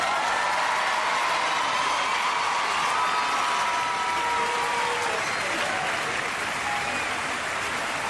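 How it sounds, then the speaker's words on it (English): A studio audience at a televised robot combat show applauds, a continuous dense wash of clapping with light cheering that holds steady and close throughout. "A big round of applause for both of our teams"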